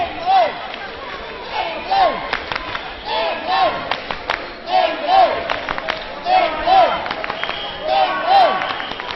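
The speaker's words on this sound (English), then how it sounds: "You can hear them chanting and clapping away." England fans in the stands at a women's European championship semi-final against Italy chant in a repeated rhythmic call with bursts of clapping, a loud crowd sound cycling steadily throughout.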